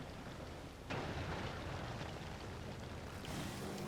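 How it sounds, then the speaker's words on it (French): Rain in a video game, a faint, even wash of falling drops that swells slightly after the first second and then holds steady with no voices. "Non, il pleut ici."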